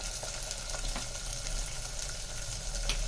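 Onions frying in oil in a pan for a Tirunelveli-style kara kuzhambu, with a steady dense sizzle and occasional faint stirring clicks.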